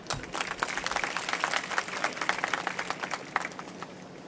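Crowd applause at a ministerial event where bicycles are handed out to schoolgirls: many hands clapping in a lively, slightly uneven patter that swells and holds, then eases off near the end, with no speech over it.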